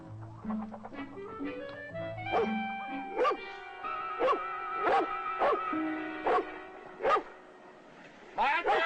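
A dog near a hen house barks and yips in short, irregular bursts, some whining between, fairly close, over a sustained musical score with no talk.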